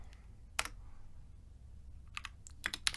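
Keystrokes on a computer keyboard entering a Linux btrfs subvolume list command, a short burst of clicks, a pause, then a quicker cluster of taps near the end, close and fairly quiet over a low hum.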